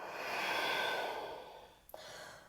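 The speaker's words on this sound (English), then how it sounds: "Deep breath out." A long, deep exhale in a yoga breathing exercise swells and fades over about two seconds and ends in a short catch of breath. It is close and alone, with no talking.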